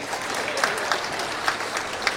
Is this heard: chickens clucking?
no